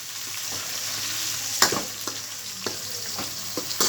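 Mint is stirred into a sizzling mixture in a frying pan, a steady close crackle of frying broken by several sharp scraping clicks of the spoon against the pan.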